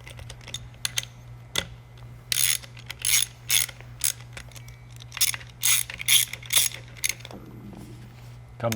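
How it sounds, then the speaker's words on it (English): Allen head screws are driven into an Eaton Carter 64250 heavy-duty ground fueling nozzle during reassembly, with bursts of close ratcheting clicks repeating over a steady low electrical hum. "fasten that Allen head screw all the way down"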